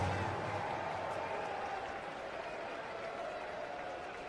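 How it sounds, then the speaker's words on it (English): Crowd noise at a major league baseball game between the Arizona Diamondbacks and Baltimore Orioles, a steady, distant roar of cheering and clapping that fills the stadium and fades slightly over a few seconds. "Crowd started to make some noise"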